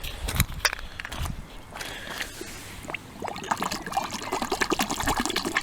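Water splashes and trickles over a treacle-glazed pottery pot lid found on a Scottish beach, with dribbling pours and light crunching footsteps close by.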